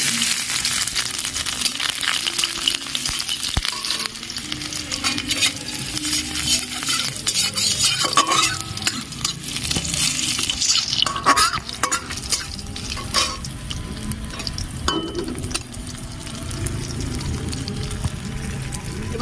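Garlic and nigella seeds fry in mustard oil in a hot kadai, a continuous hissing sizzle with frequent spoon scrapes and stirring clinks running throughout, close and moderately loud.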